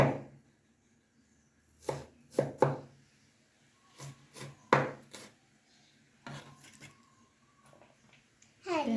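A knife chops garlic cloves on a wooden board, several brisk bursts of close, crisp taps in short clusters with quiet gaps between, in a home kitchen cooking a Sri Lankan hen kekiri vegetable curry.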